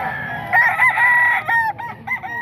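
A 9-month-old Boston Roundhead rooster crows loudly and close by at a poultry market, its long wavering call carrying on through the clip with a few breaks, over a low murmur of background noise.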